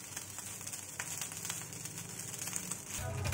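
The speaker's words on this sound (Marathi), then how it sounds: "अजून थोडं 5 मिनिट याला हाय फ्लेमवर फ्राय करून घ्यायचं आहे." Rice being fried in a pan over a high flame for restaurant-style jeera rice, giving a steady close crackle and sizzle that runs without a break, with no talk.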